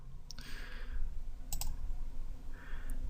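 A computer mouse gives a few faint, sharp clicks at irregular intervals against a quiet room hum, with no voices.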